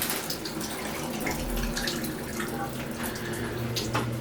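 Hotel shower running with strong pressure in a plain room, a steady broadband hiss of falling water that holds constant and close throughout, with no talking.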